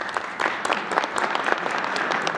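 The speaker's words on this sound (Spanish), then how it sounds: "Un aplauso, claro." A room full of people claps steadily, a dense, even round of applause at close range.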